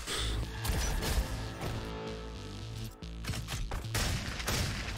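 Shotgun blasts in the Roboquest video game, a rapid series of loud booming shots over a busy game soundtrack, with no talking.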